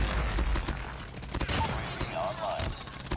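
Rapid gunfire bursts in the mobile shooter game Call of Duty Mobile, loud and close, with shots crackling over a steady game backdrop and brief overlapping effects.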